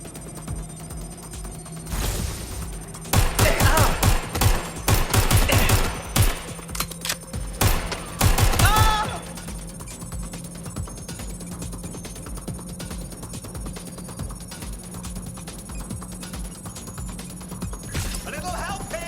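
Bursts of gunfire in Watch Dogs: Legion, several clusters of rapid sharp shots at close range over a few seconds, then quieter background ambience with a steady hum.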